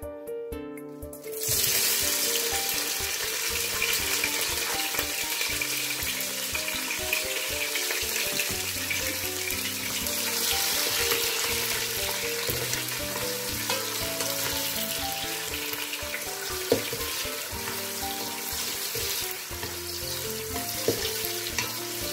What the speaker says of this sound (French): Je vais faire revenir mes oignons.